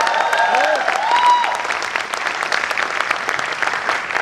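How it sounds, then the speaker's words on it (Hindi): Audience applause in a Hindi-language training session hall, a dense steady clatter of many hands clapping throughout with a few voices calling out early on, fairly loud and sustained without letup. "प्लीज तालियां ना बजाएं।"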